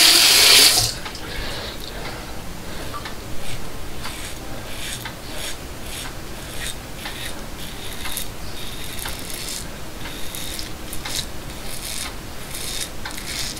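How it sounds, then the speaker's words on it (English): Warm tap water runs steadily as a razor is rinsed under it, a close, continuous splashing with faint clicks and taps of the razor against the stream and sink. "I'm going to wash the razor off, get that warm at least."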